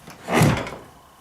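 A shed door swings with a single close rushing scrape that swells and fades over about a second, with no talking.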